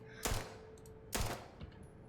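Two sharp gunshots fired in zero gravity in space in the game Starfield, spaced about a second apart, each a loud close crack with a brief decaying tail over a low steady hum.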